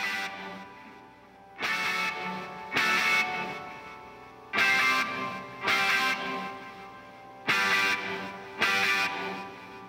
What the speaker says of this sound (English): the strings of the piano resonating to notes that are being played in the guitar chords and just ringing out afterwards